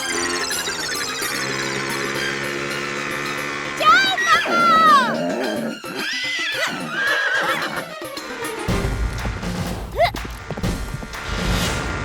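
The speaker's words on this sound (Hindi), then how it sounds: "घोड़ा तो आगे निकल गया।" A horse whinnies loudly and repeatedly in a comedy TV scene, with hooves clip-clopping; later a thud and rustling follow.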